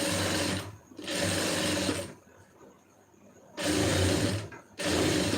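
A sewing machine stitches the lining of a blouse in several loud bursts of steady running, broken by pauses where it falls quiet, with no talk over it.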